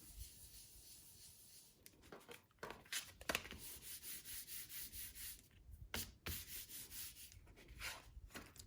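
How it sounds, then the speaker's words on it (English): Paper card being rubbed by hand to stick a folded piece down while making a seasonal fun fold card, giving a close, continuous soft scraping and swishing in rhythmic strokes with no talking. "We're going to line this piece up at the bottom, close our card, more rubbing."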